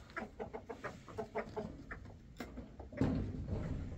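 Indian roosters and hens cluck steadily in a rhythmic series of close calls, followed by a louder, rougher crowing burst near the end, with no talking.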